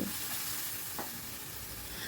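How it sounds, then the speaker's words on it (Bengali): Fish curry spices in a pan with a little water are stirred, making a soft, steady sizzle with faint scraping strokes; the sound is quiet and close, with no voices. "জলটা দিয়ে আবারও সব কিছু ভালো করে মিশিয়ে নিচ্ছি"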